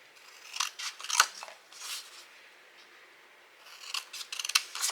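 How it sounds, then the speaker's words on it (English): Scissors snipping through paper or card for a handmade shirt-and-tie gift box, a close run of crisp cuts in two bursts with a quieter pause between them and no voice. "We're going to cut this part right here off."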